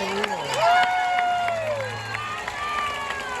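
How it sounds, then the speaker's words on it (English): A large outdoor stadium crowd at a SeaWorld San Diego orca show cheers and applauds as two orcas are introduced, a steady wash of clapping and shouts running throughout with an amplified announcer's voice and a whistle-like tone over it. "Everyone give a big round of applause to Orchid and"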